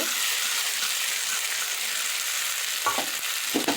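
Masala frying in a pan for Bengali rui shorshe gives a constant close sizzle, broken near the end by a couple of brief spatula knocks as mustard paste goes in.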